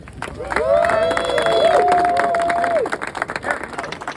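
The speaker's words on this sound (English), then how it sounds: "All right, so another round of applause." A crowd at a Harrisburg transit rally cheers and applauds in a loud, sustained roar that lasts a few seconds and then tapers off into scattered voices.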